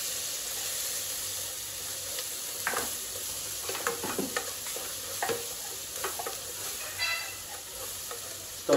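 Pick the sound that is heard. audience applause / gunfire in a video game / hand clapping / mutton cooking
mutton cooking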